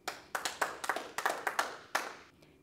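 A few individual hand claps in separate bursts, like a small audience clapping unevenly for a singer's act at a weaning-themed open mic, close and fairly quiet with short gaps between.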